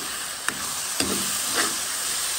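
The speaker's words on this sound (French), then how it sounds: "Regarde ça comme il mijote là-dedans." Rougail of fresh river prawns bubbling in a pot, a steady close hiss of simmering broth with a few soft pops and clicks on top.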